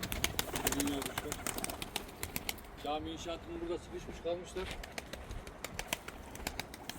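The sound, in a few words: pigeons in a coop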